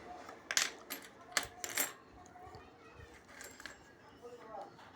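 Large Indian rupee coins clink and jingle as they are handled, in a few bright metallic bursts early on and lighter taps later, fairly faint, with talk in the background.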